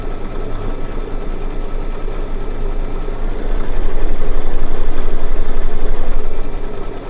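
An embroidery sewing machine stitches out lettering in a steady, loud, fast mechanical chatter that carries on throughout and swells slightly in the middle.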